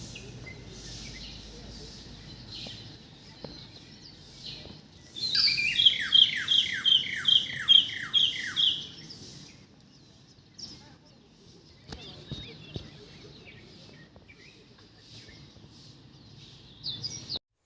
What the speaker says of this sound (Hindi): सुबह-सुबह इस तरीके से जब चिड़िया चहचहाती हैं ना, तो बहुत ही अच्छा फ़ील होता है।